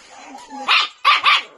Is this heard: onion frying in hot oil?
no